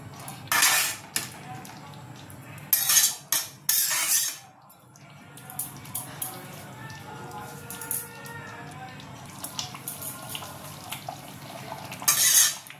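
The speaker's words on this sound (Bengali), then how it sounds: "এবার একটু ভালো করে নেড়ে ফেড়ে ঢাকা দিয়ে রেখে দেবো" Spoon scraping and clinking in a pot while potol rezala, a pointed gourd curry, is stirred, in bursts of metallic clatter with quieter stirring between, as someone talks over it.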